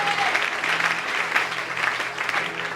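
A church congregation claps to acclaim the Lord, a dense, steady wave of applause from a crowd filling the room, loud and continuous for several seconds with a voice faintly underneath.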